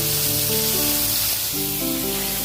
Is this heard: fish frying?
yes